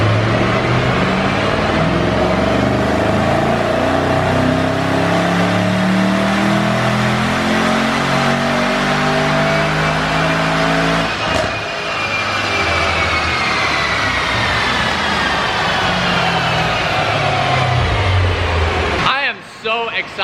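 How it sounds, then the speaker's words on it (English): A tuned 2018 Mercedes-AMG E63 S roars flat out on a dyno, a loud climbing engine howl that peaks, then drops away as the revs fall and the exhaust burbles down to a stop. "let's listen to this E63 flat out"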